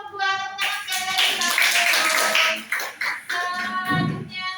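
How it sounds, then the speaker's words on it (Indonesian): A classroom group claps for student group 2 after their presentation at a university teaching session. The clapping is brisk and scattered, with voices chattering and calling out over it. "Tepuk tangan sekali lagi"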